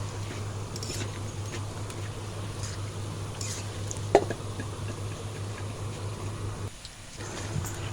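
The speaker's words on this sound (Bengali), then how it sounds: "তো পিঠাগুলো ভাজা হয়ে গেছে" Pitha cakes fry in a pan with a steady, continuous sizzle over a low hum, broken by a single sharp clink midway and a short lull near the end.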